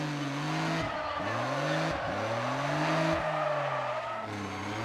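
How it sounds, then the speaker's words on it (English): A car engine in the racing video game Need For Speed ProStreet revs loudly and steadily, its pitch climbing and then dropping with each gear shift, about four shifts in a row, with a faint tyre hiss and no voices. "This car sounds sick, by the way."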